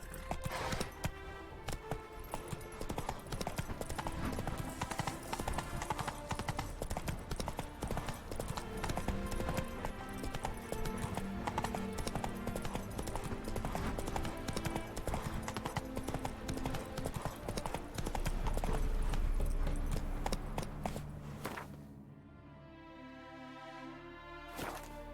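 Roach, the horse in The Witcher 3, walking with hooves clip-clopping in a steady plodding rhythm beneath game music and ambience, then fading out near the end.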